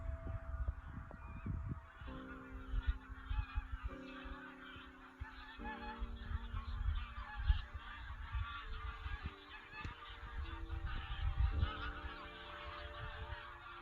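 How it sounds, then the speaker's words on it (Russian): A large flock of geese honks repeatedly as it returns to a lake at a hunting ground. The overlapping calls sound at moderate distance over open-air ambience. "гусь, которого мы ждали, он ушел в другую сторону и вот сейчас возвращается на озеро"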